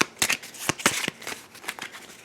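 A deck of enemy cards from a tabletop game gets a quick shuffle, giving several crisp riffling bursts in a loose rhythm, close and fairly quiet.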